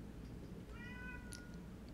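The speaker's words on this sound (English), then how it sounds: "Yes, the cat is crying in the background." Cat crying in the background of a quiet indoor room, one faint thin meow drawn out briefly over a low steady hum, distant and soft.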